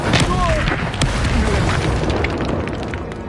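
A Confringo blasting spell explodes in Hogwarts Legacy with a loud, broad boom that keeps rumbling and crackling for several seconds, close and dense, with a brief voice over the start.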